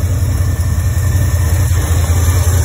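A Camaro engine idles steadily at close range with its cooling fans running, a continuous low rumble and a constant whirring hum and no voices.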